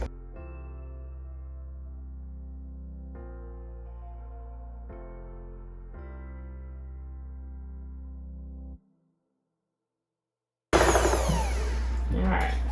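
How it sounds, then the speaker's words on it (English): An electric hand mixer whirs loudly into sour cream and wet ingredients, starting abruptly after a brief silence and running steadily through the last couple of seconds, following a stretch of talking. "I'm actually gonna go ahead and pull out my hand mixer to incorporate the sour cream and the wet ingredients"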